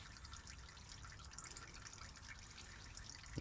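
Engine oil drains from the oil pan of a 2008 Nissan on a sloped driveway, a soft continuous trickle and patter of liquid heard close and quietly with no talking.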